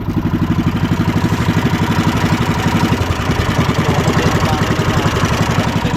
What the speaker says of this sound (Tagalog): Pinaandar niya yung kanyang makina.